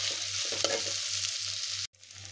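Rice is stirred into a sizzling pot for vegetable biryani: a bright, steady frying hiss with soft scraping strokes, cut off briefly near the end and then resuming more quietly.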